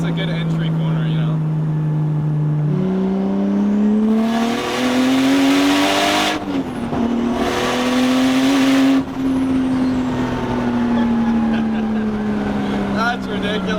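An RB25-powered Nissan S13 drift and street build runs while driving, its engine droning steadily and climbing in pitch through the revs, with bursts of rushing noise, as people talk over it inside the car.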